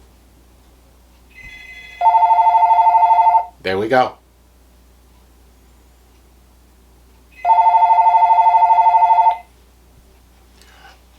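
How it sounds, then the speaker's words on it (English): An AT&T cordless phone rings in two long electronic trilling bursts separated by a pause, loud and close, with a short spoken remark between them. "I'm going to take my cell phone and make sure our phone call goes through."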